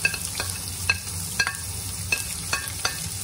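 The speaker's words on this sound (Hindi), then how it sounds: "नेक्स्ट हम इसमें ऐड करेंगे प्याज जो हमने फाइनली चॉप करके रखी थी" Chopped onions frying with cumin in a pan for egg curry: a soft, steady sizzle broken by regular sharp clicks of a spoon stirring against the pan, close and without talk.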